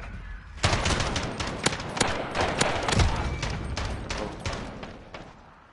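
Dense video-game gunfire in a firefight: rapid overlapping shots and bursts crackle loud and close for several seconds without pause, with no talking.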